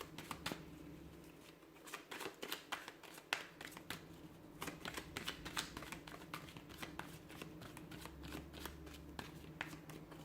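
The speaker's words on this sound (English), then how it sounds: "So we'll give the cards a shuffle and see what messages do you need to hear." Tarot cards are shuffled close up, quiet crisp riffles and flutters coming in quick irregular bursts with soft hand handling between, alone without talk.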